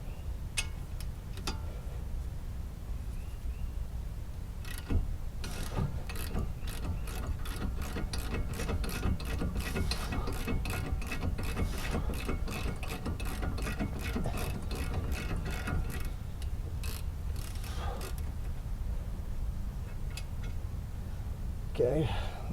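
Ratchet wrench turning during a disc brake replacement, with rapid clicking that runs in long, steady strokes, close and clear, with brief pauses near the end.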